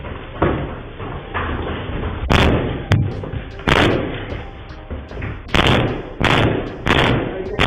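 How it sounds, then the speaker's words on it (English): A man kicks in doors, captured on security camera footage: a string of heavy, sharp thuds and bangs at irregular intervals over a steady low background rumble. "felt like 30 different camera angles of Jim kicking those doors in like it was directed by Steven Spielberg himself."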